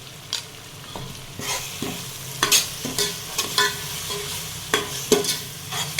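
Ginger garlic paste fries in a pan for mutton biryani while a spoon stirs it in repeated, irregular scraping strokes over a steady sizzle, close and fairly loud with no voices.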